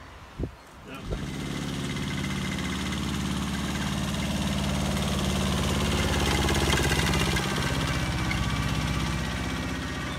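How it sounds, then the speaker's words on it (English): A tractor engine idles with a steady low rumble, close and constant, after a couple of brief knocks at the start. "I'm having to take them down with the tractor and trailer"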